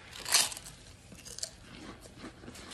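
A single loud crunchy bite into red hot homemade pork skins, followed by quieter crackly chewing and small crunches close to the mouth.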